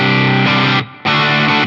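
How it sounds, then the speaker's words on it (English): Electric guitar through a Fulltone GT-500 overdrive with the drive knob turned up, heavily distorted chords played loud, broken by one short pause before a second sustained strum. "Let's bring that volume down and turn the drive up."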